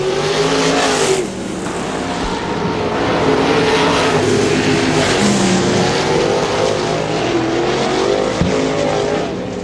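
Winged sprint cars roaring around a dirt track during a heat race at Butler Battlegrounds in Quincy, loud continuous engine howl with rising and falling revs as cars pass close by.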